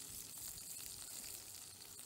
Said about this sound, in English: I'm doing my second big outdoor bacon frying